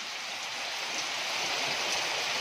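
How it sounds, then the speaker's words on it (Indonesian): Steady rain falls as a dense, even hiss of water close by, uniform throughout the short stretch with no voices. "Hujan."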